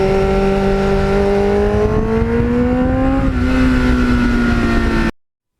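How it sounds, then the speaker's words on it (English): A 1989 Kawasaki GPX750R Ninja fitted with a Muzzy muffler climbs through the gears, its harmonic, organ-like engine tone rising and dropping at each shift, steady and close for about five seconds before cutting off. "sounds like a pipe organ when you go through the gears"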